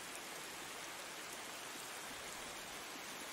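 Steady rain falls evenly with a broad, continuous hiss and no breaks, heard alone without any voices.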